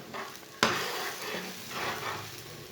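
Egg curry with spices stirred in a pan, opening with a sharp knock of a spoon on the pan followed by a frying sizzle and rhythmic swishing stirring strokes, close-up with no talk.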